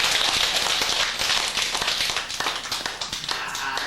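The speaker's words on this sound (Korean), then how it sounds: "와닿으면 박수나 쳐고 치우자." Listeners at a Buddhist sutra lecture clap hands, a busy patter of sharp, uneven claps that thins toward the end, with no talking.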